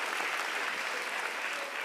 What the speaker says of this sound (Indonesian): Tepuk tangan dulu dong buat Kompas TV